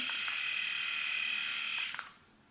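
A Philips Norelco S9721 electric shaver runs with a steady, loud, close buzzing hum for about two seconds, then switches off and fades to quiet, with no talking.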